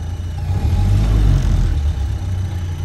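1931 Ford Model A Fordor Sedan engine catching and running with a low, steady chugging rumble that swells briefly and then settles into an even idle; nobody speaks.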